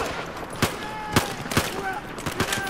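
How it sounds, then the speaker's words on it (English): Gunfire in the video game Battlefield 4: sharp separate shots crack out at irregular intervals over a steady background of game noise, with a voice talking quietly underneath. "who's shooting at me?"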